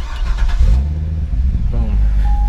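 A 2012 Chevrolet Corvette Grand Sport 4LT with a push-button start fires up, its low engine rumble swelling into a loud, steady idle close by, with a brief voice heard early on.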